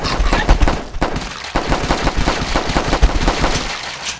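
Short, controlled machine gun bursts in a shooter video game, loud and close, rapid rattling volleys broken by brief pauses.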